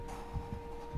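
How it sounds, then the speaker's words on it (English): Heartbeat in the PS3 game Heavy Rain: two low, thudding beats about half a second apart over a steady electronic hum, soft and close, with no speech. "You'll feel on your controller pad of the heavy vibrations of his heart beating, but you can hear it as well."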